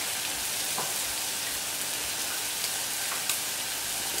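Jack Daniels barbecue sauce hitting grilled beef rib (basse côte), a steady broadband crackling sizzle with a few sharper pops, continuous and fairly close, no voices.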